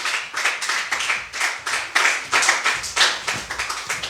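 Church congregation clapping together in a steady rhythmic beat, about two claps per second, loud and close, sustained without talking.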